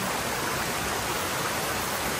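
Water rushes along a stream swollen after a month of rain, a steady broadband flow that stays constant and full throughout, close by with no talk.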